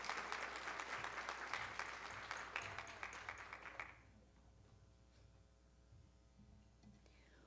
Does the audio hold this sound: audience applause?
yes